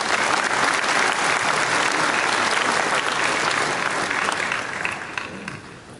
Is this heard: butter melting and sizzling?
no